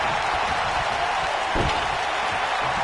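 A video game wrestling arena crowd during a WWE match, a steady broad roar of cheering that swells slightly around the middle, with a brief thud underneath, continuous and fairly loud throughout.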